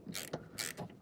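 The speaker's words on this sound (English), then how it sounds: "use our T30 to loosen these screws" Screws on a VW door window clamp loosened with a T30 Torx driver at a salvage yard, giving a few short, close ratcheting clicks and creaks in brief bursts, with no talking.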